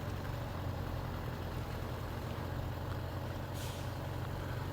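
A big GMC truck drives in the SnowRunner game, its engine giving a continuous heavy low drone with a short hiss near the end, no voices.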